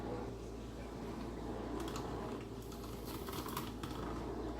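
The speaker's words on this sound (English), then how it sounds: "Go ahead and grab our apple peeler and get to peeling." A hand-cranked apple peeler works on an apple, giving a faint continuous mechanical whir with soft clicking and scraping over a steady low hum, quiet and close.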